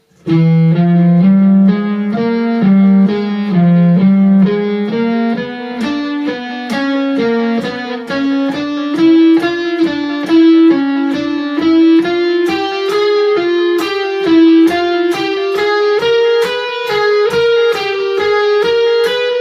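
A distorted electric guitar plays a rapid, even run of picked notes climbing steadily in a repeating sequential pattern through a diminished scale, loud and continuous.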